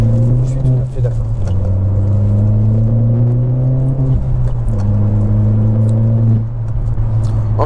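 A car engine running at a steady, loud drone with a strong low hum, the pitch dipping and rising slightly a couple of times as the revs change, heard close from inside the car.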